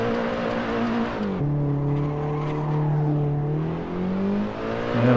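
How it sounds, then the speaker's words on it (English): A BMW race car engine in Assetto Corsa on PS4 drones loudly and steadily, dipping and climbing in pitch as it revs through gear changes, with no talking over it. "The noise this car makes is just fantastic."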